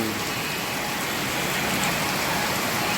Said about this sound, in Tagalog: Ayan, nabot na kaming ulan.